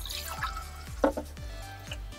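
Strained cocktail liquid is poured back into a vessel, giving soft dripping and trickling with a few small splashes, close and fairly quiet.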